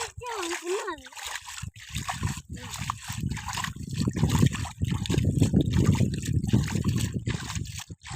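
Water is poured out and splashed across a surface during village cleaning, sloshing and spattering steadily and fairly close for several seconds while children shout and talk over it.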